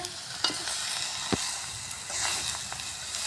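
Ghum saag greens stir-fry in a pan, a soft steady sizzle broken by a few sharp spatula scrapes and knocks, close and without speech.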